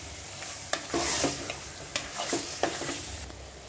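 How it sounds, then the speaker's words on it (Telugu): Chicken fries in oil while being stirred for a Gongura chicken curry. Steady sizzling runs under intermittent spatula scrapes against the pan, close and moderately quiet, with no voices. "చికెన్ కొంచెం కలుపుకొని ఒక 2 నిమిషాలు నూనెలో కొంచెం చికెన్ మగ్గనిద్దాం"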